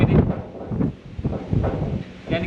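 Strong wind buffets the microphone in uneven rumbling gusts, loud and close, with no talking.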